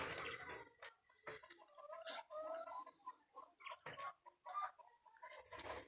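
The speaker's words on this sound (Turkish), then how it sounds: "Nasıl arkadaşlar? Bıldırcanlarım nasıl?" Quails kept in a pen make soft, quiet calls. Irregular chirps and clucking notes come close together over several seconds, faint and near, with some rustling and knocking between them.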